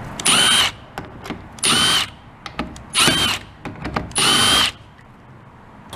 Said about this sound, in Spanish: Vamos a quitar estos tornillos que son de 1 pulgada 1/4.